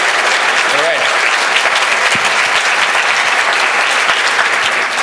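Audience applause welcoming Rick Branson from Instagram onto the stage for a PyCon talk on messaging at scale, a dense, steady clapping that holds loud and even for the full stretch, with faint voices mixed in.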